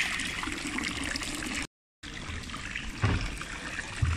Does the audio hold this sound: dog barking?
no